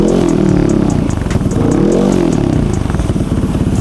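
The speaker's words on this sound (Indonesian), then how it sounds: "Jadi ini dia suara dari knalpot Ganesha ya" A Yamaha XMAX 400 scooter with an aftermarket Ganesha exhaust revs repeatedly, rising and falling in loud throaty bursts with a rattling, crackling exhaust note close by.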